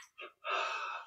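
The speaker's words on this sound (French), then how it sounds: "Puis inspire." During a yoga exercise, a close, audible inhalation follows a couple of brief breathy sounds, lasting about half a second.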